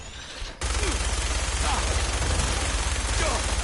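Minigun fire in Fallout 4, a loud continuous rapid rattle that cuts in abruptly after a brief quieter lead-in and roars steadily through to the end.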